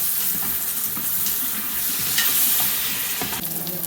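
Mushrooms sautéing in a pan until slightly crispy, a loud, dense, continuous sizzle with stirring close by and no voices.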